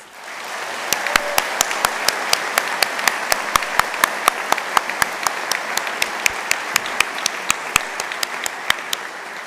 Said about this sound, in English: You might join me in giving them a round of applause.